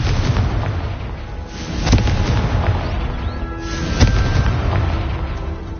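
A Confringo spell explosion in the video game Hogwarts Legacy: a dense, rumbling barrage of booms and blasts, with sharper bursts standing out over continuous battle noise.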